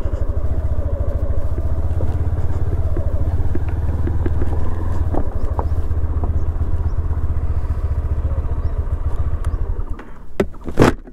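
A KTM Duke 390 motorcycle runs with a loud, steady engine rumble for most of the ride, then drops off near the end, leaving brief clatter and quieter sounds.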